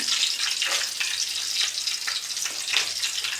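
Dried red chillies frying in a pan with onion and garlic, a continuous crackling sizzle with bursts of popping and stirring, close and fairly loud with no talk.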